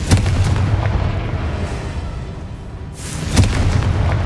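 In Hogwarts Legacy, a Confringo fire spell goes off as a deep booming blast at the start and another near the end, with rumbling game noise between and no talk.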